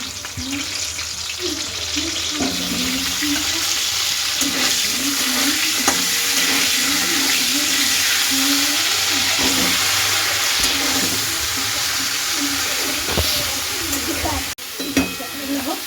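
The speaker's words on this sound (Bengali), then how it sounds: "এবার ফুলকপিটা ভাজা হোক" Cauliflower pieces frying in oil, a loud, dense, continuous crackling sizzle heard close up with occasional stirring clinks, running steadily throughout before a brief knock near the end.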